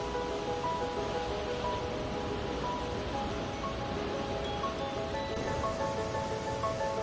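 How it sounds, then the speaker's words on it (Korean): Ocean waves wash against rocky coastal cliffs along a seaside walking trail near Jeongdongjin, Gangneung, a steady broadband roar of surf, fairly distant and continuous, with faint tonal background sounds and no speech. "펼쳐진 해안 절벽을 따라 파도 소리를 들으며 걷다 보면"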